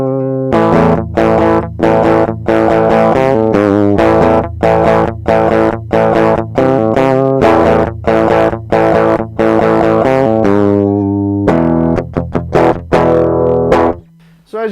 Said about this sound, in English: So as you can hear, that is the direct input coming from this mixer to my computer, and that is my guitar.